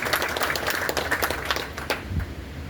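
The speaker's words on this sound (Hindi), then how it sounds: "तो एक बार जोरदार तालियों से हम इनका अभिनंदन करते हैं।" An audience at a ceremony honouring saints in Ambala city bursts into loud, dense clapping that carries on briefly and thins slightly toward the end, with no talking over it.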